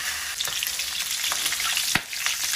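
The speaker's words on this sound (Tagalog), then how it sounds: "ang gagawin natin dito ay iba-browning na muna natin. Hayaan muna natin mag-brown at maglabas ng kanyang mantika" Pieces of pork for Bisaya-style humba browning in a hot pan as they release their fat, a loud, continuous crackling sizzle with sharp spitting pops.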